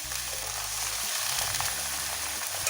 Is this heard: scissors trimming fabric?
no